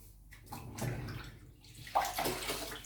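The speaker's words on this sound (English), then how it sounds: "you dunk it in the water" A tiling sponge plunged and rinsed in a water bucket, with soft sloshing and gurgling swells, then a sharper splash near the end, close and fairly quiet with no talking.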